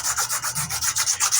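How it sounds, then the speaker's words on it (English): Hand sanding a wooden knife handle with 240-grit abrasive makes a steady back-and-forth rasp, about a dozen quick, even strokes close to the mic, with no voices. "let's do the hand sanding"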